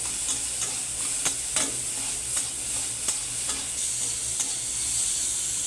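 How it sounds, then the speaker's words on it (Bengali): Eggplant pieces frying in a pan with salt and turmeric, a steady sizzle punctuated by sharp spatula stirring knocks at irregular intervals. "বেগুনটাও আমার ভাজা হয়ে গেছে,"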